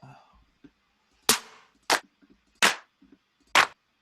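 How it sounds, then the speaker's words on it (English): Four crisp, tight clap drum hits from a sample in Ableton, spaced roughly evenly, each sharp and bright with a short snappy tail, played alone with faint quieter ticks between them. "I'm also going to get a clap."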